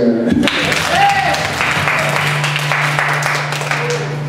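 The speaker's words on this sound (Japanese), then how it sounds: "ひじゅさん、拍手" Audience applause at a church concert, a steady wash of clapping heard close and continuous, with a low sustained hum underneath and a voice briefly cutting through.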